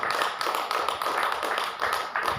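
A congregation at a Tamil Christian sermon claps along in steady, rhythmic bursts of hand claps that sound close and fairly loud, with no speech over them.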